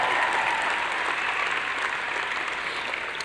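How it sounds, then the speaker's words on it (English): Steady, dense applause from a large audience at a high school graduation, sustained evenly throughout without any voices standing out. "Go ahead, you can applaud in any one of these"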